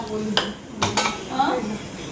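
Pots and metal vessels clatter and clink a few times close by, sharp knocks against a quiet room background.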